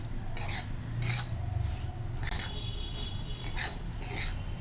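Semolina (rava) is roasted over medium heat and stirred in a pan, giving a steady dry hiss with rhythmic spoon scrapes against the metal, close and unaccompanied by speech.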